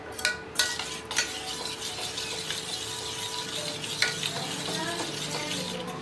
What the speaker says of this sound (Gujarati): હવે લમ્સ ન રહે એ રીતે હલાવવાનું છે